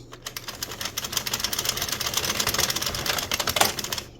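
An Addi 46 knitting machine clatters through a row, a rapid run of close mechanical clicks building over a few seconds and ending with a sharper click.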